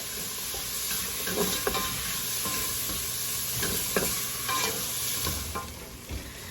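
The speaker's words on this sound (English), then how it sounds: "Now we're going to add 3 tablespoons of butter." Three tablespoons of butter melting in a soup pot for tortellini soup, giving a continuous bright sizzle with light scraping and stirring clatter throughout, close and alone without speech.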